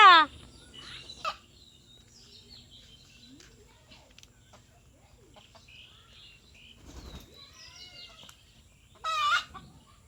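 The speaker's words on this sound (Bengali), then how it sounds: "সব মুরগিরা এই জন্য হুড়মুড় করে উঠেছে" Hens in a backyard flock squawk and cluck in alarm, with sharp loud cries at the start and end, scattered calls and wing flaps between, heard close after a fox raid.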